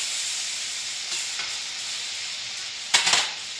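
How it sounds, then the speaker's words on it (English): Jarred salmon sizzles and hisses as it is stir-fried in a hot pan, a steady bright frying noise with a few scraping stirs and a sharper burst of sizzle near the end. "I'm going to start stir frying it around and cooling my pan down."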